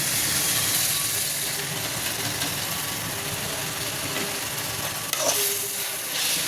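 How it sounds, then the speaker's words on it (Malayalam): Masala spices being stirred into a tomato paste base in a frying pan, giving a steady sizzle with soft scraping of the spoon throughout, no voices. "മസാല നല്ല മിക്സ് ചെയ്ത് കൊടുക്കാം."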